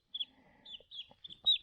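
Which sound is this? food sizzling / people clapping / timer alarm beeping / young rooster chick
young rooster chick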